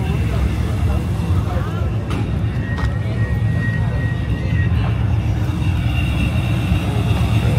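A car with a large power adder, a big supercharger or turbo, idles with a loud, steady, deep rumble that carries on throughout, with someone speaking over it.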